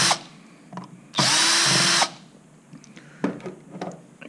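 A power drill backs out screws from a top box mount that holds a speed controller, one loud, steady whirring burst of under a second standing out clearly against a quiet room with a few faint handling clicks.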